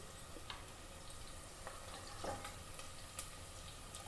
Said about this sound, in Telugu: ఎప్పుడైనా మంచిగా రెడ్గా వేగిపోవాలి ఉల్లిగడ్డలు